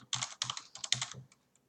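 Quick bursts of typing on a computer keyboard as Python code is entered, crisp clustered keystrokes close up over about a second, then stopping into quiet.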